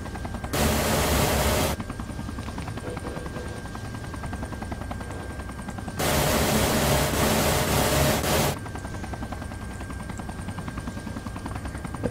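A helicopter in the video game ArmA 3 drones with a steady rotor and engine roar, and two louder broadband bursts of noise flare up over it, one early and a longer one midway.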